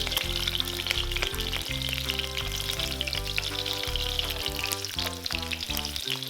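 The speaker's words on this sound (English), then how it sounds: "Then we're going to add back the lobster and pan fry it for about 5 minutes." Lobster pan-fried with ginger, garlic and scallions sizzles steadily throughout, partly masked by prominent background music.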